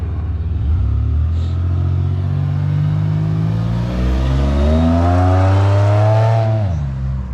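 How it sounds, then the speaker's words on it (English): A supercharged Pontiac Bonneville SSEi climbs to about 35 mph during a brake test, its engine note rising steadily and loudly for several seconds before dropping away sharply as it slows hard. "He got up to like cruising speed, like 35 miles per hour, then slammed on the brakes"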